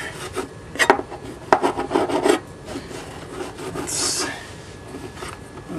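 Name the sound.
cutting and scraping model railroad scenery material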